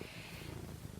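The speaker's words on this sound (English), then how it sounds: "if you hear purring in this, the cat has decided to join me on my bed to film this." A cat purring steadily while lying on a bed, a close, continuous low rumble filling the whole short moment with no talking.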